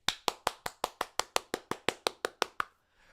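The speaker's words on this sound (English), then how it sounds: "let's go ahead and get a round of applause to the boys" A lone pair of hands gives a slow round of applause for the Carolina Panthers: about fourteen sharp, evenly spaced claps at a steady rhythm, close and distinct, then silence at the end.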